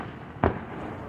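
A single sharp firework burst cracks once at a July Fourth display, a brief distant boom over a low background hum.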